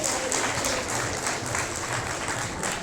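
An audience at a magic show in Haweli Kharagpur, Munger claps steadily in a dense, moderately distant round of applause that lasts the whole stretch without a break.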